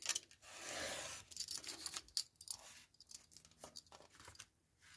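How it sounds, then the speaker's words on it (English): A craft cutter with a fresh blade slices book pages, making quiet, close scraping and rasping strokes broken by brief pauses. "So I'm going to cut these out."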